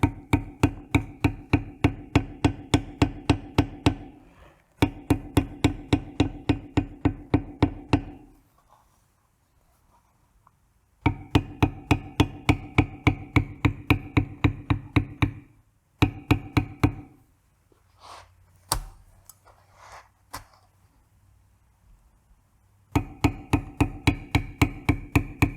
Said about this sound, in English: bevel our border, flat part of the tool facing out.